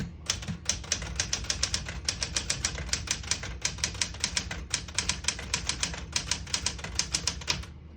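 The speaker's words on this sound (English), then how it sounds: "I'll type a sentence in red on the next line." Crisp, rapid keystrokes from a 1974 Smith-Corona Galaxie 12 portable typewriter clatter in quick irregular bursts, close and clear, with no talking.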